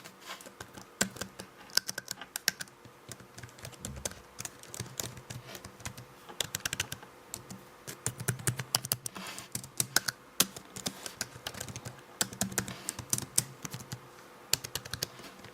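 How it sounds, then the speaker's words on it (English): Rapid, steady clicking of keys typed on a Rapoo E9800M wireless keyboard with a metal design, heard very close and crisp, with no talking. "do a quick ASMR test so you can hear with my mics very close to the keys how this Rapoo keyboard sounds"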